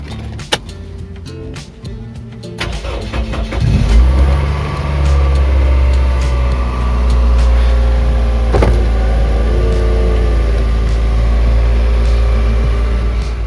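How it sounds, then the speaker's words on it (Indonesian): A 2006 Toyota car engine idling at raised RPM while still cold, a steady close rumbling drone that starts after a few clicks and mechanical knocks and keeps running loud to the end, with no talking. "Dan ini suara mesinnya RPM masih tinggi"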